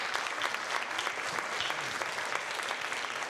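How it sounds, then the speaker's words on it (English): A room of attendees at a native plant panel discussion applauds the panelists with dense, continuous clapping that holds steady throughout, close and even, with no talk over it. "We can give them a round of applause, please."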